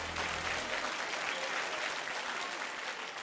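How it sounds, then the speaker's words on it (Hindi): Studio audience applauding contestants on a folk singing talent show, a steady broad wash of clapping heard alone at a moderate distance throughout. "जोरदार तालियां हो जाएं मनोज और नीतू के लिए यार"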